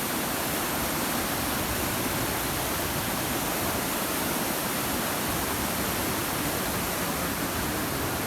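Fast-flowing river water rushes below a cable-drawn seat crossing on a trek route to Dudipatsar Lake near Naran. It makes a loud, continuous, hissing roar that stays steady throughout, with no voices.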